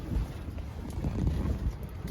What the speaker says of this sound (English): We've not tented in wind like this before.